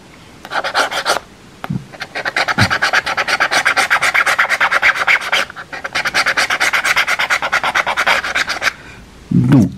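A coin or scraper rasps rapidly across a French FDJ scratch-off lottery ticket in close, loud bursts of steady back-and-forth strokes with brief pauses between them.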